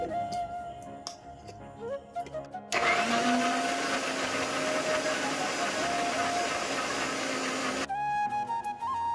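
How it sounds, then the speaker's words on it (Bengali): A mixer grinder purees mangoes into a fine paste, its steady loud motor whine running for several seconds, bracketed by quieter kitchen handling before and after. "আমগুলো মিক্সি জারের ভেতর দিয়ে আমি ভালো করে পেস্ট করে নেব"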